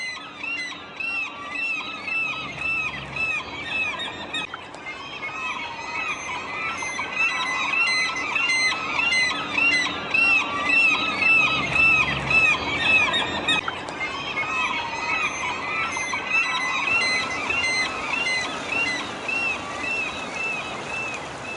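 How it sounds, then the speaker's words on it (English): Gulls calling over a salmon river where they dive for eggs in the gravel, a continuous chorus of shrill squealing cries that overlap steadily for the whole stretch, fairly loud and close. "The gulls dive for the eggs lying in the gravel at the bottom."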